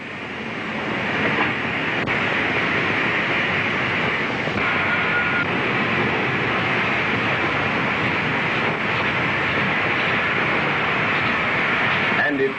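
Steam locomotive slowly rotating on an engine shed turntable, a continuous mechanical rumble and hiss holding steady for the whole stretch, with a faint click near the start.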